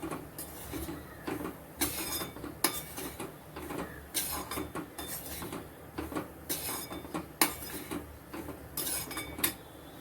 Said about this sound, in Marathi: आता मी इथे रवा भाजायला घेते